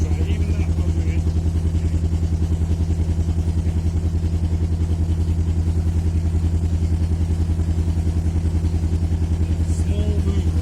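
A narrowboat engine chugging steadily while mooring on an English waterway in the rain, a loud, even low throb with a fast regular pulse running continuously and unchanged throughout.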